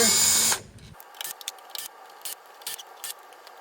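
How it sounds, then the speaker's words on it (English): A power tool backs out 5mm Allen bolts on an FAE UML SSL 150 VT forestry mulcher: a loud burst of whirring ends in short bits of clicks and rattles, close by. "you're going to take off these 5mm Allen bolts here"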